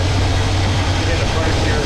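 A 1979 GMC Vandura engine with a new Edelbrock carburetor sits at base idle, a steady low droning rumble filling the space, close and loud throughout.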